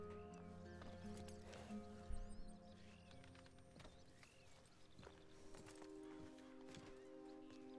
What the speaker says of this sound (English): I want to get on the horse.